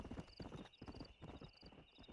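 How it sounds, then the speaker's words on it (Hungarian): Horse hooves clip-clop in a steady, close rhythm in Red Dead Redemption, with a soft whinny mixed in. The sound is faint but distinct, and nobody speaks over it. "We got some fine horses."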